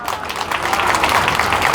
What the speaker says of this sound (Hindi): इसलिए अपने आप के लिए ताली बजाइए।